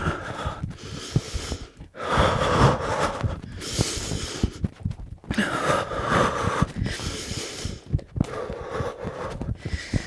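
Heavy, rhythmic breathing with snorts and gasps during a skipping-rope HIIT workout, loud and close, with soft thuds and rubbing underneath and no talk.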